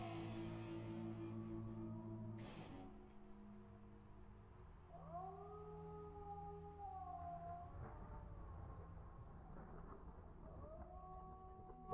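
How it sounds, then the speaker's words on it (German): Wolves howling as a sound effect under a song: long sliding tonal howls rise and fall over a steady music bed, several overlapping calls in the middle of the stretch, no talk. "heulen ja auch Wölfe"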